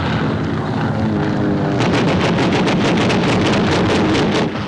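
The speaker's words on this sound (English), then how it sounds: "A Yank task force off Saipan Island in the Marianas attacked by Jap planes by the enemy." Warplanes attacking a naval task force off Saipan in the Marianas in 1944, a loud roaring rush of aircraft and wind with rapid pulsing bursts like gunfire in the second half.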